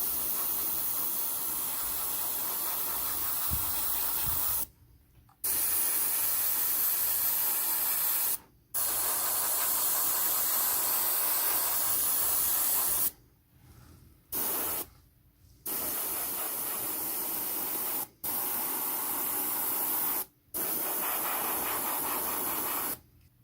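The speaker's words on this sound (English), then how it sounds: "I've just masked off some areas to spray a darker grey, and for that I'm using Vallejo Model Grey." An airbrush sprays Vallejo Model Grey acrylic paint onto a masked scale model of the Battlestar Pegasus in a steady, loud hiss, broken by several short pauses where the trigger is released, with no talk.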